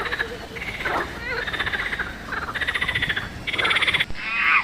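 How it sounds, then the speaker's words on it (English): A frog croaks in loud, repeated bursts of rasping calls, close up and alone, with a few short pauses between runs of pulses. "Frog."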